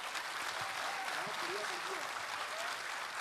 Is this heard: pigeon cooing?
no